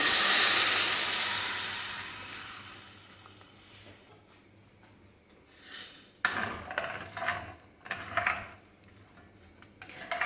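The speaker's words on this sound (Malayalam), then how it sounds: "നന്നായിട്ട് ഇളക്കി ഒന്ന് യോജിപ്പിക്കാം" Cooked dal mixed with spices in a pan, first a loud hiss of steam that fades away, then intermittent scraping and clinking stirring strokes against the pan.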